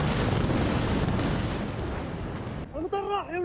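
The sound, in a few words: Iranian ballistic missiles exploding over Israel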